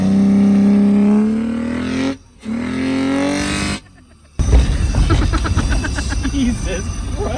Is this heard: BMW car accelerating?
yes